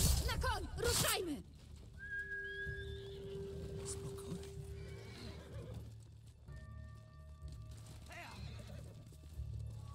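A horse neighs loudly near the start, followed by steady clip-clopping hooves with whistling tones and a soft voice in the background, in the video game Ghost of Tsushima.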